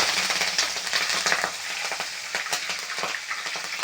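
Curry leaves dropped into hot tempering oil crackling and spitting loudly and continuously, a dense bright sizzle with quick popping bursts; no voices.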